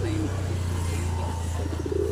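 Pigeons at a bird market cooing in a steady, low murmur, with a few sharper calls near the end, set against a continuous hum and background voices.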